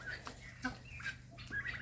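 Chicken clucking in a farmyard where turkeys and bantam hens are being fed, a few short bursts of clucks spread across the moment, moderately near with low background hum.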